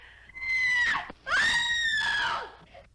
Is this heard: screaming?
yes